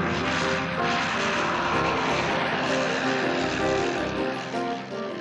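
A propeller-driven RAF trainer aircraft drones steadily overhead, a loud continuous engine hum with a slight waver in pitch, with a voice talking over it.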